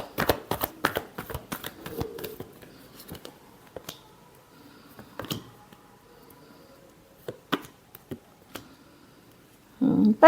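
Tarot cards being shuffled by hand, giving a quick run of crisp riffling flicks at the start and then sparse taps and slides, closing with a louder rustle.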